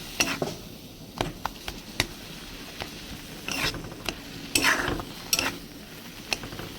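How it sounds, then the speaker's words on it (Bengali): Leafy greens stirred in a pan, the spatula scraping in short irregular strokes over a faint steady sizzle, close and alone. "ভালো করে শাকটাকে নাড়িয়ে নিচ্ছি"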